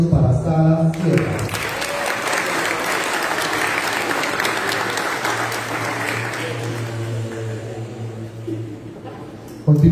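A dense burst of audience applause at a Colombian public event swells after a brief spoken introduction, holds steady for several seconds, then fades out as the talk resumes.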